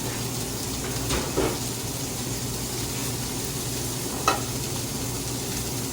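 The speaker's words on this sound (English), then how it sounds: "which is where I'm searing the seam" Stuffed pork tenderloin searing seam-side down in a hot pan, a steady soft sizzle with a couple of brief sharper crackles or handling knocks, no one talking.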